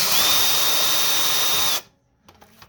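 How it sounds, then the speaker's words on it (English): A cordless screw gun whirs loudly at a steady speed for nearly two seconds during a Whirlpool refrigerator water dispenser repair, then cuts off, leaving a few faint clicks and handling noises. "I have it on a screw gun just because I figured it'd be easier for the video."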